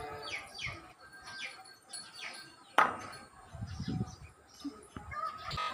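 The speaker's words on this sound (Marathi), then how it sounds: "चिमण्याचा चिवचिवाट, कोंबड्याचा आवाज," Sparrows chirp around a village near Baramati in Maharashtra, with faint, scattered short chirps over quiet ambience and one sharp clink midway.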